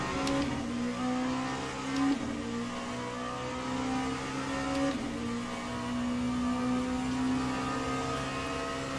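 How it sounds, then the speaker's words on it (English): Hypercar race cars in a multiclass Le Mans racing video game, their engines droning steadily as cars close in and pass, with brief swells around the passes. "Here come the next Hypercars."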